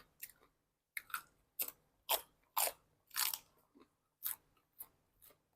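Crunchy bites and chewing of spicy Thai papaya salad with crispy pork, about a dozen sharp crackling crunches in an irregular rhythm, very close and loud, with no talking.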